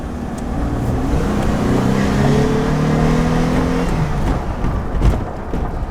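A 3.3-litre 2000 Nissan Xterra with a P0125 knock sensor fault revs steadily up and then settles, its engine note close and loud throughout, with no talking over it.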